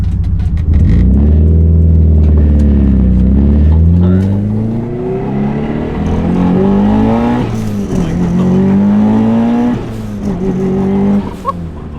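A 600 WHP Subaru WRX running NOS revs hard right up close, loud and continuous, its engine pitch climbing, falling and climbing again through several sweeps with no voices.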